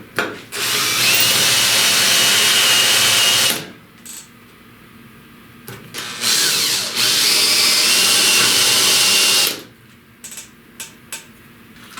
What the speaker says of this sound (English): Now I'm not going to sit here and make you watch me drill all these spot welds out.